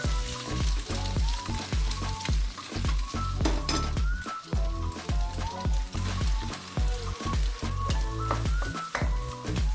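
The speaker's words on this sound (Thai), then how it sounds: "จากนั้นก็คนไข่กับน้ำมันนะคะ ให้ไข่เนี่ยมันแตกตัวค่ะทุกคน" Eggs frying in oil in a wok while being stirred for a large batch of fried rice, with steady sizzling and repeated stirring and scraping strokes throughout, loud and close with no talking.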